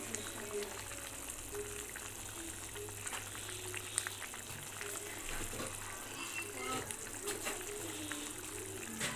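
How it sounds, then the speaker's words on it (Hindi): Omelette curry masala bubbling and sizzling in a pan on a low gas flame, a steady soft frying hiss with faint pops throughout, while a person talks over it. "ये इसमें बॉयल आने लगा है"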